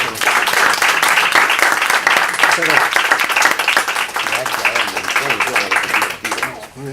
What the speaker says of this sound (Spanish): Yo quería pedirles a ustedes que me acompañen un gran aplauso